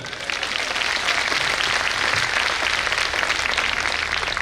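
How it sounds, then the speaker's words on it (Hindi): A church congregation at a Christian revival meeting claps continuously and loudly, dense and sustained throughout, with little talk. "हालेलुया, अभी ताली बजाओ।"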